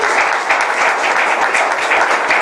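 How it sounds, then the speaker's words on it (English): Audience members at a Dallas Peace Center gathering applaud a new board member, a sustained, close, fairly loud patter of many hands clapping with no pause or speech. "Give him a round of applause,"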